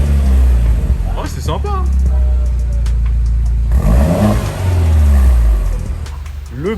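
A Peugeot 208 GTi engine starts with a deep rumble and revs in two loud rising surges, heard close, while people talk briefly over it.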